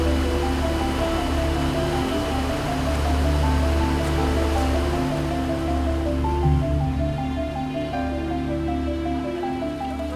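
A river flows with a steady, broad rushing of water, continuous and fairly loud, with faint tonal sounds in the background.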